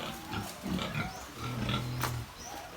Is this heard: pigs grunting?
yes